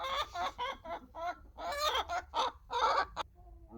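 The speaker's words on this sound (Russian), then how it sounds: "Курица ходит, что-то все орет" A chicken clucks and squawks in a rapid, agitated series of calls, close by and fairly loud, ending with a brief lull.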